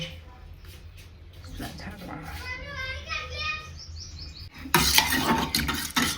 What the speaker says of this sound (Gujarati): મિક્સ કરી લેવાનું